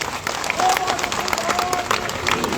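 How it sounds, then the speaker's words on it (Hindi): An audience at a Bageshwar Dham Sundarkand recitation gathering claps loudly and continuously in a dense, sustained burst, with a crowd murmuring and voices mixed in. "आप लोग भी जोरदार ताली बजा"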